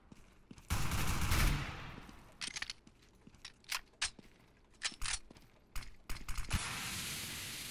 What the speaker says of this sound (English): Where the heck these guys are shooting from?